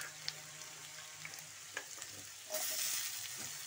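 Potatoes frying in a pan are stirred, giving a steady sizzle with a few soft scraping knocks, and the frying grows louder and brighter near the end.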